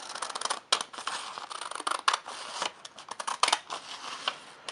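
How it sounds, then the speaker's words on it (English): Scissors snip through paper in a quick, uneven series of crisp cuts, close up and fairly quiet, with no voices. "get a pair of scissors and we're just going to cut along this edge"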